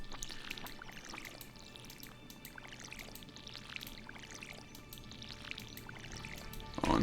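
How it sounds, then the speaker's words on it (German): Watering can pouring water over crops in the Stardew Valley farming game, a steady continuous game-audio pour running throughout at moderate level with no talk. "was könnte man denn so reden, während wir da die ganze Zeit am Gießen sind?"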